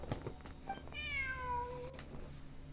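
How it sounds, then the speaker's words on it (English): A cat in Genshin Impact gives one clear, drawn-out meow, close and fairly loud, over a quiet game backdrop with no talk. "Look, a cat."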